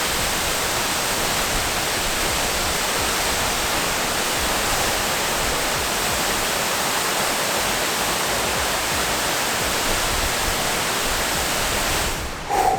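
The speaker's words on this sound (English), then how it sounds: "This is the upper falls of High Falls. It's freaking beautiful. It's really rushing." The upper falls of High Falls on a cold hiking trail make a loud, constant, broadband rush of cascading water that stays steady and close throughout.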